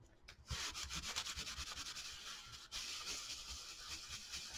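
Tissue paper is rubbed onto a gluebook page in quick, steady back-and-forth strokes, a close, soft rasping swish repeating rhythmically without talk.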